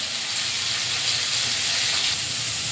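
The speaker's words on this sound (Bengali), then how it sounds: "হলুদ দিয়ে নাড়াচাড়া করে জল দিয়ে দেব" Steady loud hiss and sizzle as water goes into a hot pan of potato and pumpkin cooking for a sour fish dish, a continuous close steamy rush without pauses.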